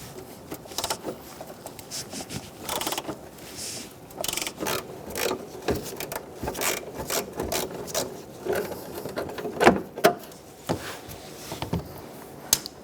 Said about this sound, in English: We're going to travel down the line, removing all of these bolts.